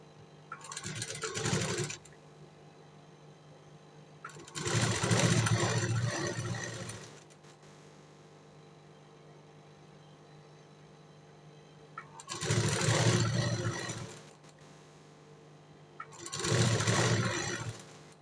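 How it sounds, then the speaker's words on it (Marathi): A sewing machine stitches the waist side seam of a boat-neck blouse in four separate bursts of mechanical whirring, each lasting a couple of seconds, with quiet gaps between them. "आता आपण हा कपड्यावरती ठेवून पहिले कमरेच्या साईडला आपण शिलाई मारून त्याला घेणार आहोत"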